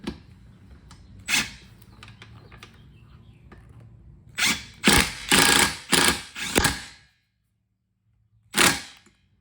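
A body bolt is driven into a Jeep TJ's metal body, cutting its own threads, heard as a cluster of sharp ratcheting clicks and grinding bursts in quick succession, then a pause and one final burst, all fairly close.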